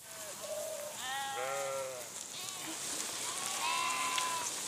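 Several sheep bleat outdoors in a pasture during a move to a summer barn. Overlapping calls come from near and far over steady background noise.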